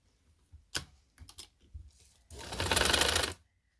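A sewing machine stitches fabric for a baby frock, a brief rapid run of stitching after a few scattered clicks and handling taps, close and fairly loud.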